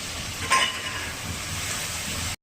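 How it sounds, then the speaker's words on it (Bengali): Garlic and onion paste hits a hot pan while cooking mung dal with rohu fish head, giving a steady broadband sizzle with a brief louder burst at the start, close and continuous with no talk. "রসুন আর পেঁয়াজ পেস্টটা দিয়ে দিলাম"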